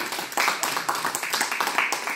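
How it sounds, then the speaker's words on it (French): Audience at the Marches Normandes 2022 general assembly clapping warmly for volunteers, a steady patter of hands through the room with no talk over it. "qu'on peut applaudir chaleureusement pour leur travail"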